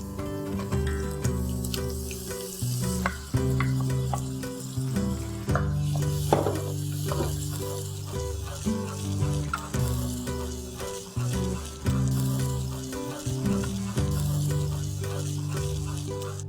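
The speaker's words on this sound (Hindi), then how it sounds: "अच्छे से मिक्स करके हम हमारी त्रेवटी दाल डालेंगे।" Trevti dal, a Gujarati mixed lentil dish, stirred into a red chilli and turmeric tempering, giving a continuous loud sizzle with repeated stirring scrapes and some wet bubbling, under a faint tonal hum.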